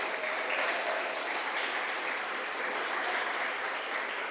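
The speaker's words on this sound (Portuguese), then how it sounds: "Você pode dar um aplauso para o Senhor?" A church congregation applauds, a steady even wash of many hands clapping together, filling the room without pauses.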